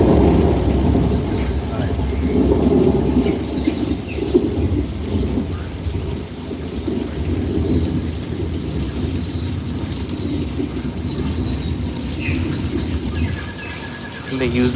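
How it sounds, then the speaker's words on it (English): Artificial rain pours from a film-set sprinkler system on the Universal Studios Hollywood backlot, water shooting up and falling back down. A dense, steady wash of falling water with a low rumble runs without pause throughout. "So the water shoots up into the air with our sprinkler system, falls back down naturally"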